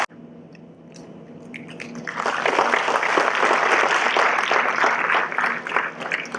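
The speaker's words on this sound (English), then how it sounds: "Please give him a big round of applause." A seated audience at a foundation programme event applauds the chief guest, building from quiet room noise into sustained, dense clapping that swells after about two seconds and carries on steadily, with a faint murmur of voices underneath.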